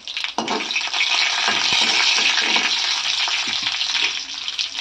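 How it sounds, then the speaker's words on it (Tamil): Mustard seeds spluttering in hot oil for sambar, a loud continuous crackling sizzle with rapid popping, close and alone without speech. "கடுகு நல்லா பொரிஞ்சு வரட்டும்."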